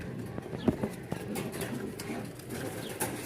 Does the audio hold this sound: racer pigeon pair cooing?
yes